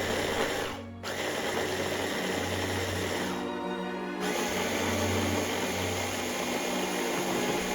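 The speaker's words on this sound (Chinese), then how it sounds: "再放入料理机中打成番茄酱" A food processor whirs steadily as it blends cooked tomatoes into tomato sauce, a loud continuous motor hum that cuts out briefly twice and then resumes.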